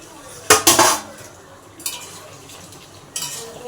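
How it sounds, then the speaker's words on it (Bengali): A lid lifted off a cooking pot, with two sharp metallic clanks close together followed by softer clattering bursts of the lid and pot over a quiet background. "আর এই কিছুক্ষণ পর আমি ঢাকনাটা খুলে নিচ্ছি"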